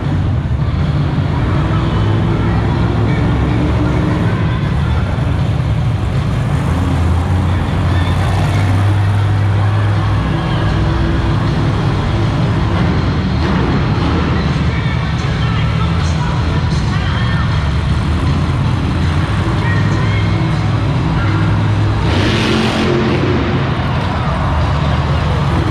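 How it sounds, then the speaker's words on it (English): A Monster Jam monster truck engine roars steadily inside a loud arena, a constant heavy rumble blended with crowd noise for the whole stretch. "Monster Jam truck."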